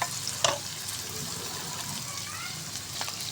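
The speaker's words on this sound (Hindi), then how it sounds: "अब प्याज हमने फ्राई कर लिया है" Onions sizzle steadily in a pan for a potato and egg curry, a close, even hiss with a brief stirring clatter near the start.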